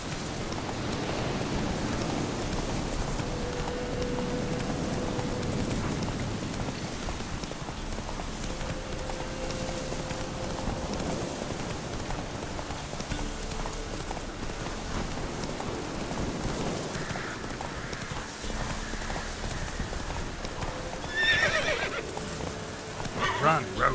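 Geralt's horse Roach from The Witcher 3 runs through game audio, neighing and whinnying over a steady bed of rain-like noise, with hoof clatter and brief voices mixed in.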